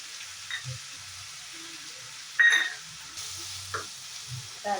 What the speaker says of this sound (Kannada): ಟೊಮೊಟೊ ಬೇಯಬೇಕಾದ್ರೆ ಉಪ್ಪು ಹಾಕ್ಕೊಂಬಿಡಿ, ಚೆನ್ನಾಗಿ ಫ್ರೈ ಆಗುತ್ತೆ